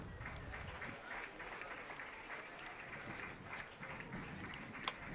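Faint, distant applause from spectators at a junior archery championship bronze-medal final in Madrid, a steady soft patter of clapping lasting a few seconds.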